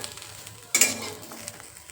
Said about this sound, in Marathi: मी खोबऱ्याचं खीस ह्याच्यात टाकून घेतलेलं आहे. आता हे पण छान असं लालसर होईपर्यंत भाजूया.